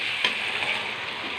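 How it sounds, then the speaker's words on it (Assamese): Duck meat fries in a hot pan as it is stirred, giving a steady close sizzle with a light scrape of the spatula near the start. "ঢাকাৰ পিছত মই এনেকৈ এতিয়া মাংসটো লৰাই দিছোঁ।"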